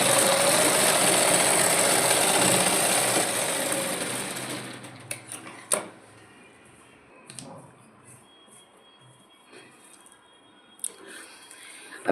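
Sewing machine stitching baby frock fabric, running loud and continuous for about five seconds, then stopping, followed by scattered faint clicks and handling noises.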